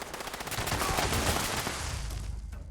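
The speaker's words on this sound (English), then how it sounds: "What's this guy's shooting at here?" Rapid gunfire rings out in the post-apocalyptic video game Fallout 76 during a gang fight, a dense, steady burst of shots close up and loud, with no talking over it.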